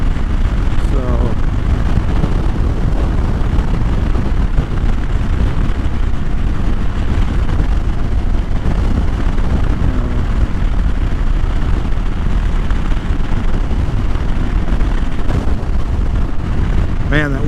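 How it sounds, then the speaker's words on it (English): Heavy, roaring wind buffeting on a motorcycle ride, a dense low rumble filling the whole stretch with occasional harder gusts, while a rider talks intermittently over it. "every once in a while I just get this hard gust"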